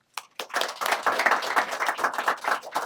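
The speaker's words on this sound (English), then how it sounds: "Now, we want the biggest round of applause" Audience applause at a business awards reception, a steady wash of many hands clapping after a couple of scattered first claps, sustained and fairly loud.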